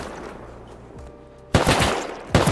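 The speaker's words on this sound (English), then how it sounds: "Dude, they have AK." AK rifle fire in the Rust video game erupts as two loud, close bursts of rapid automatic shots after a quiet lull, with no talk over them.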